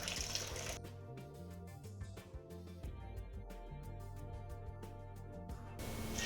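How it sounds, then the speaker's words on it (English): Mushroom stock pours through a colander in a steady, close stream of splashing and gurgling liquid that runs continuously and quietly, with no voices. "all that I'm going to do for the first part is just move this through a colander"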